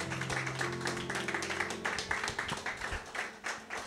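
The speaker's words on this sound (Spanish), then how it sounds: "Dele ese aplauso con vida al Dios que vive." A church congregation claps in rhythm, fairly quiet and distant, with steady repeated claps over a sustained musical tone in the background.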